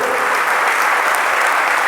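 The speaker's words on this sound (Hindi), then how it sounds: "ऐसी ताली आज बजाओ, चेतन चमक दमक ही जाए" Audience clapping at a religious discourse gathering in Ghatol, Rajasthan, a dense, steady applause that stays loud and even throughout with no pauses.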